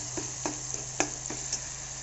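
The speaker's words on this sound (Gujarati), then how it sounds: "ટામેટાને આપણે બરાબર મિક્સ કરી લેશું આવી રીતે" Chopped tomatoes being mixed in a cooking pan for a radish curry, a steady sizzle with a series of soft, evenly spaced scrapes and taps from the spoon, close by.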